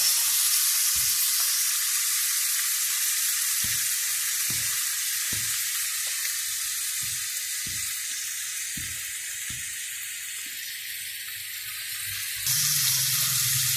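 Garlic sautés in a pan with a constant loud, even sizzle, while a spoon taps and scrapes against the pan at a slow, regular pace; the hiss swells again near the end.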